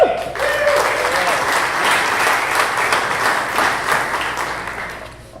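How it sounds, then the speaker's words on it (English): An audience at a morning business gathering in Mount Pleasant, South Carolina gives warm applause for a cybersecurity company, dense clapping with a few cheers that swells and then tapers off, after a brief voice at the start. "let's give a big round warm of applause to LDAPTIVE"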